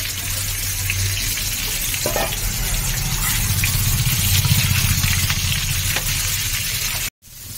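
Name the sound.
frying raw jackfruit in oil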